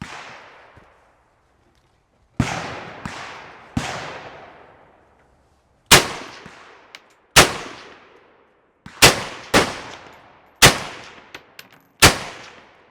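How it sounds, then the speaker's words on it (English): Soviet SKS semi-automatic rifle fired outdoors, about ten sharp, loud cracks in small irregular groups with pauses between, each shot followed by a brief decaying echo. "I always forget how fun this gun is to shoot because it just doesn't recoil at all."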